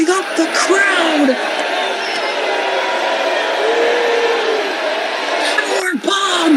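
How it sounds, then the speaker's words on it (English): A wrestling arena crowd cheers and roars as a wrestler hypes them up, a loud, continuous wash of voices with scattered whoops and shouts. "Junior Capri now hyping up the crowd."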